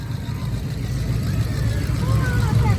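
A V-8 demolition derby car idles and rolls slowly into the queue at a fairground, its low engine rumble steady and moderately close, with faint background noise.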